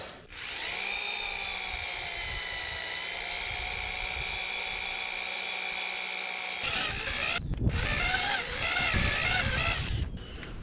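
A drill bores into a metal part during a JLG boom lift teardown, a loud sustained high whine for several seconds, then a rougher, grinding stretch as the bit bites and strains.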